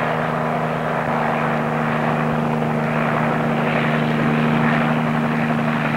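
Steady, continuous drone of an H-37 helicopter in flight, carrying a crew, a Little John rocket launcher and a Jeep aboard; a constant rotor and engine hum with strong low tones holds evenly throughout, with no talk.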